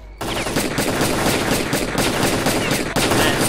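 A weapon in S.T.A.L.K.E.R. Clear Sky fires loud, dense automatic bursts, rapid shots merging into a continuous roar with a brief break near the end, and no talking.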